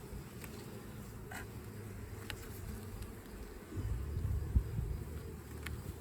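Carniolan honey bees buzzing around an open hive during an inspection, a continuous low drone that swells louder midway, with occasional faint clicks and knocks nearby.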